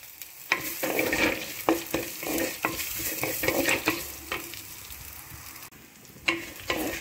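Asafoetida and onions stir-fry in a pan, steady close sizzling broken by repeated scraping strokes of a spatula at an irregular rhythm.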